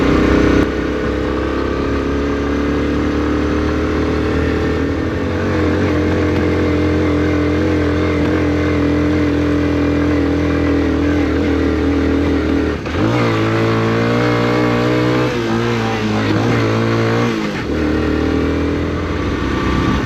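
A 1980 Honda CT110 trail motorcycle climbs a slippery muddy bank off-road. Its small engine drones loud and close, then revs up sharply partway through as the rider pushes up the slope, with no voices over it.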